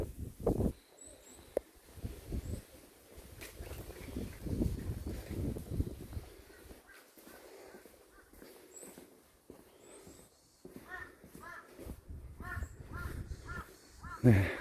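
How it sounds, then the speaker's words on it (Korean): Crows caw repeatedly in short, clustered calls, mostly distant and fairly faint, around a Buddhist hermitage on a seaside mountain, with wind and outdoor rumble underneath and no speech. "까마귀 소리도 들리고요"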